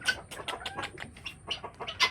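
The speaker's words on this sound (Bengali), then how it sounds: "আমার শখের চীনা মুরগিগুলো কি ডিম পারছে নাকি, দেখে আসি।" Chinese hens in a small farm coop give a quick run of soft, rhythmic clucks and chirpy calls, close by but fairly quiet, with no talking.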